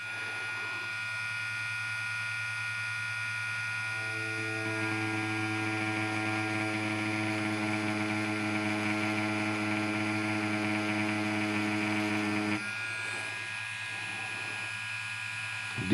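An EZ P2S Pro wireless tattoo machine, set to 8.5 with a 3.5mm stroke, works into practice skin with a steady electric hum and strong tonal buzz. It drones continuously for most of the clip, then drops off briefly near the end.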